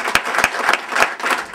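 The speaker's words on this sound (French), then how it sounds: "sous vos applaudissements" Audience applause in a hall at a mayor's speech event, a dense burst of clapping with a few sharper individual claps standing out, steady and fairly close throughout.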